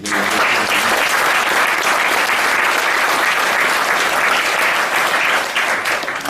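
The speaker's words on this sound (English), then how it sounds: "So if you could give them a round of applause." Loud, sustained audience applause at a youth council presentation, dense clapping from a full room that holds steady for several seconds and tapers slightly at the end.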